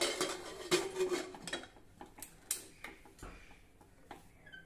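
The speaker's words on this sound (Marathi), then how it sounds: "आता आपण झाकण बंद करून घेऊया" The lid of a pressure cooker holding dal goes on with a run of small metallic clicks, taps and clinks, close but fairly quiet, with no voices.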